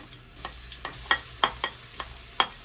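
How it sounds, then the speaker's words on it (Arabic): Onion fries in hot oil, a soft steady sizzle under a run of crisp clicking spoon strokes, roughly eight quick scrapes against the pan in irregular succession. "تعالوا بقى ننزل بالزيت. ننزل البصله بتاعتنا على طول"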